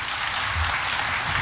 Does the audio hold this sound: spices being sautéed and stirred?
no